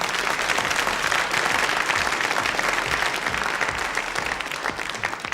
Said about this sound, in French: je vais vous demander d'applaudir M. Gros